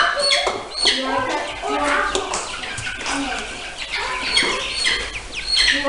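A small backyard flock of chickens clucks and chatters continuously at close range, a busy overlapping stream of short calls with people talking among them.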